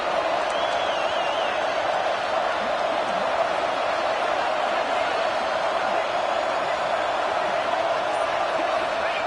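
A stadium crowd in College Football 26 roars in a steady, continuous wash of cheering noise, with no break across the whole stretch.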